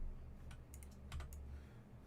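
A few computer keyboard keys tapped for editing shortcuts in music notation software, soft isolated clicks in a short irregular cluster, quiet and close over faint room hum.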